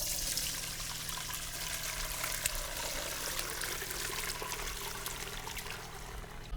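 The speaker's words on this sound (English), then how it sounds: "Always pour away from yourself when it's a hot liquid" Hot beef bone broth pours from a pot into a strainer in a kitchen, a steady close splashing trickle of liquid running continuously without interruption.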